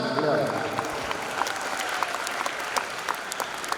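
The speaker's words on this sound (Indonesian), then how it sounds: "Tepuk tangan." An audience at a new-student orientation for santri at an Islamic boarding school claps steadily for a madrasah aliyah principal, a dense patter of many hands with a few louder claps standing out, with some voices mixed in.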